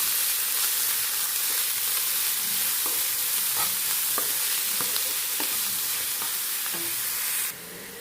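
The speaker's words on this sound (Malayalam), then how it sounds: "സവോളയും പച്ചമുളകും ഉണ്ട്. ആയിട്ടൊന്ന് വഴറ്റിയെടുക്കാം." Chopped onion and green chilli sizzle and fry in a pan, a steady close hiss broken by repeated light clinks and scrapes of a spoon stirring, ending with a brief louder burst.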